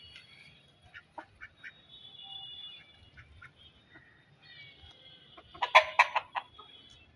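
Backyard chickens clucking in a cat-shared yard, scattered soft clucks and calls building to a louder burst of rapid clucking, close by with no talk.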